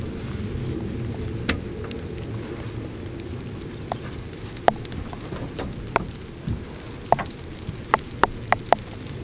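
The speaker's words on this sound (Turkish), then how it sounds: "çok yağmur yağıyor" Heavy rain pours steadily on a remote forest car campsite, a dense, continuous hiss with scattered sharper drops and patters ringing out near the end, with no voices.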